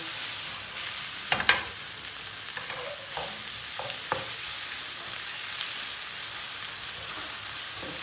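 A spoonful of flour stirred into tomato paste that has begun sticking to the bottom of a frying pan for a chicken dish: a steady, close sizzle broken by a few sharp spoon scrapes early on, with no talking.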